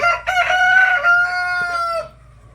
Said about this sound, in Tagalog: dito tayo sa loob ng ating breeding area ng mga manok